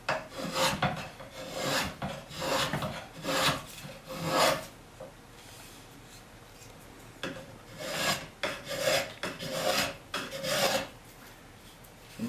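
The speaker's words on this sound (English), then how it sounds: "I'll clean up the back first with the spokeshave" A spokeshave shaving the back of a wooden comb, set skewed to reduce chatter, producing repeated rasping strokes in an irregular rhythm, close and fairly loud, with a quieter stretch in the middle.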